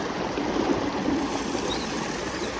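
Water flows out of a pipe from a farm well, a continuous close rushing stream with steady even spray and no pauses.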